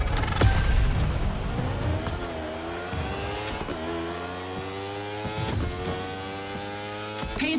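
Racing engine of a motorcycle in The Crew Motorfest, a loud steady drone with rising and falling rev sweeps and shifts, close and continuous without talk.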